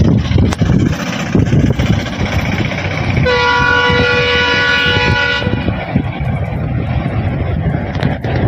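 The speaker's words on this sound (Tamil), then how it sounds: "பாம்பன் புதிய பாலத்தில் 2வது நாளாக 90 கிலோமீட்டர் வேகத்தில் ரயில் இயக்கப்பட்டு சோதனை ஓட்டம் நடைபெற்றது." A train on a test run across the new Pamban bridge at 90 km/h rumbles steadily and loudly throughout, with a sustained horn blast sounding partway through over the continuous roar of the wagons.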